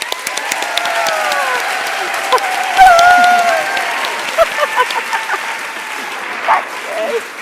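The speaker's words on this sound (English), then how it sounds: "So please, let's have a huge round of applause as we welcome our guest speaker from Phenomenal Training, Laura Thomson." A large audience at a season launch event applauding as a guest speaker is welcomed, sustained loud clapping from a crowd, with scattered whoops and cheers rising over it.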